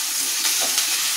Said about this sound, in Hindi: ये प्याज और शिमला मिर्च को हमें ज्यादा नहीं पकाना है।